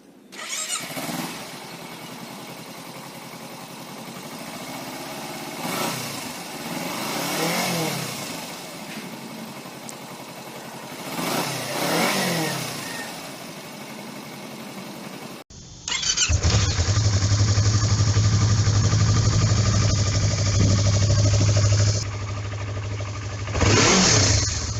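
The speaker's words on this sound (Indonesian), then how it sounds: "Untuk suara mesin kedua motor ini seperti video berikut." Kawasaki Z250 and Yamaha MT-25 motorcycles run one after the other: the first engine revs in three rising and falling pulls, then the second idles with a loud, steady low drone and blips near the end.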